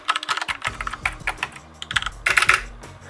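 Typing on a Corsair K60 Vengeance mechanical keyboard, a close, steady patter of sharp key clicks with a denser burst of rapid strokes near the end.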